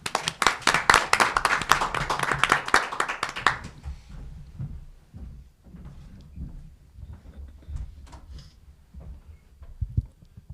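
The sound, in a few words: audience applause welcoming speaker at livestream event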